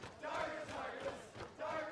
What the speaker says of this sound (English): And now they're screaming just very many names of Giants players.